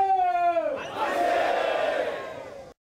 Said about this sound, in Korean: 포항시 신광면에 사람들의 만세 함성이 울려 퍼집니다.